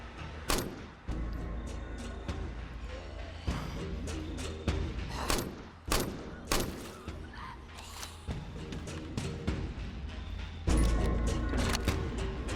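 Gunfire from a firearm in the zombie survival video game State of Decay: a string of sharp shots at irregular intervals, loud and close, over a steady game background.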